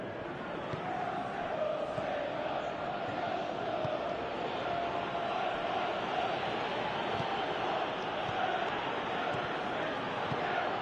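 Stadium crowd in the football video game Winning Eleven 2018, a dense, steady roar of many voices that swells slightly throughout.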